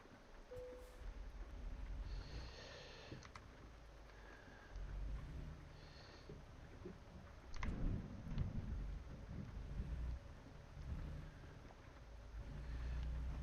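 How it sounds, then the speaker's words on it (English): Video game rain hisses steadily while low thunder rumbles and rolls in the distance, building to a heavier crash partway through, with no voices. "And now it's raining."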